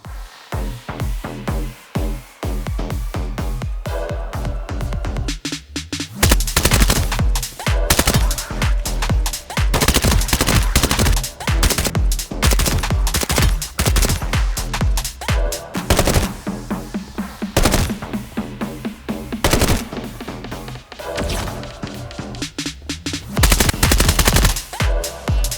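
Loud weapon fire in the first-person shooter PROMOD, rapid automatic bursts and single cracking shots in quick succession, close and punchy, with short gaps between volleys and no talking.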